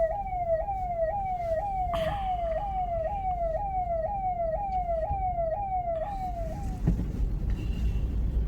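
A police car siren wails from behind a kilometre-long traffic jam, its rising sweeps repeating steadily over the low rumble of idling and moving vehicles, with a few thuds and honks.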